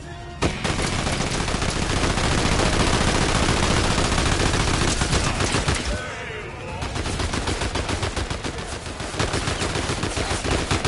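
Sustained rapid gunfire from a Fortnite match, dense and loud for most of the stretch, with a brief lull before the shooting resumes.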